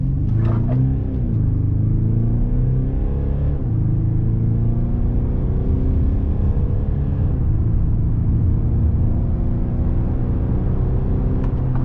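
A 2023 Mercedes GLC 220 SUV accelerates hard from a standstill race start, its engine note rising in a steady, sustained rumble with shifting tones heard from inside the cabin, continuous and fairly loud throughout.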